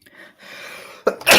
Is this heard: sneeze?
yes